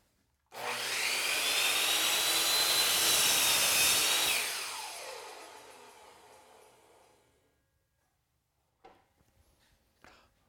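A miter saw spins up and makes a bevel cut through wood molding, a loud whining cut of about four seconds that winds down slowly as the blade coasts to a stop, followed by a couple of faint clunks.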